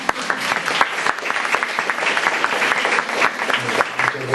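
Seminar audience applauding a guest speaker, a full steady round of clapping from a room of people, fairly close, with a few murmurs underneath.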